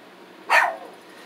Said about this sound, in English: my dog's barking and my son's probably woken up walking around.